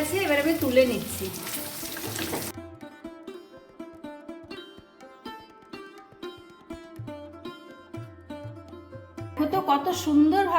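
Stuffed ash gourd fries in mustard oil with a bright, crackling sizzle at the start and again at the end; in between, tonal background music plays on its own.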